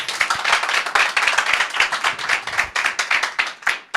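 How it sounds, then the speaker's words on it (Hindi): A church congregation claps together for about four seconds in dense, steady applause with rapid overlapping handclaps, loud and close, without any talking. "एक बार फिर से ताली बजा के प्रभु को महिमा"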